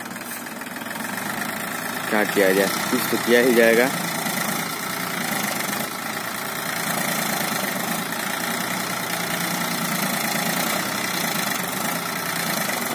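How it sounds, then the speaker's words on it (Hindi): A tractor engine runs steadily on a farm field while it is used to build soil ridges, a close, rumbling mid-pitched drone with a knocking edge that continues under a man's speech. "ट्रैक्टर से ही आरी बनाया जा रहा है"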